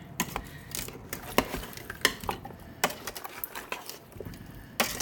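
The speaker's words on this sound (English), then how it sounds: "And I'll mix this around to see if I need any more of the Gravy Master." Spoon stirring a gravy of liquid and Gravy Master in a pot for patate fricassee, giving irregular scraping clinks and knocks against the metal with soft sloshing between, close and moderately loud with no talk.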